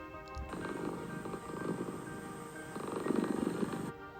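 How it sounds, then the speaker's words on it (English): A kitten purrs softly and steadily up close, the rumbling rising and falling in two long stretches. "The kitten purred."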